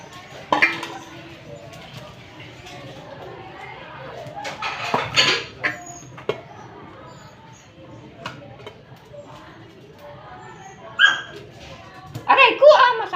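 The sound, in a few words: two hungry puppies at their dinner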